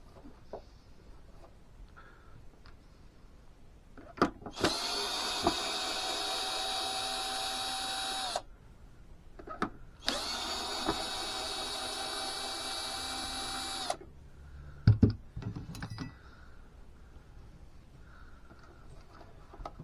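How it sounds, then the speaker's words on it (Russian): An electric screwdriver whirs in two sustained bursts of several seconds each while backing two self-tapping screws out of a Zelmer meat grinder, followed by clinks and small handling knocks, close by and without talk. "Выкручиваем, там два самореза есть."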